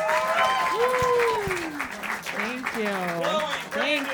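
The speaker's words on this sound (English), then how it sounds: "I want you guys to clap it up and make some noise for Chloe McGovern" A comedy roast battle crowd in New York claps and cheers for a comedian, the applause running steadily beneath a loud, energetic announcer's voice throughout.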